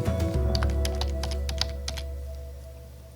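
Computer keyboard typing, a short run of light, close key clicks over a steady low electrical hum, fading toward the end with no speech.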